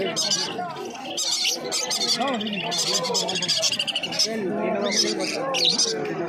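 A pair of lutino cockatiels at a busy pet market, among a dense, continuous chorus of bird chirps, whistles and squawks that overlap throughout.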